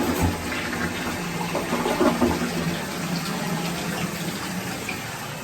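Tap water runs steadily to flush brown water out of old house pipes, a continuous close rushing and splashing with no pauses.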